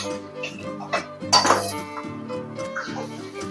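Mustard seeds tipped into a hot pan for a sweet and spicy ambazhanga pickle make a short rattling clatter of metal clinks midway, set against a steady, humming tonal background.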